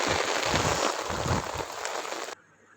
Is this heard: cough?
no